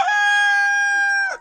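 A pet chicken lets out one loud, sustained crow-like call up close, a steady harmonic cry lasting over a second before it breaks off sharply.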